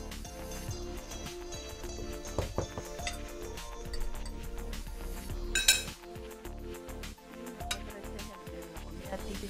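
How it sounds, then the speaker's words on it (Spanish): Ecuadorian arroz con pollo being stirred in a pot, with utensil scraping and metallic clinks against the pot over a busy background and some talk. "se le echa todo y se revuelve para que se cocine todo junto."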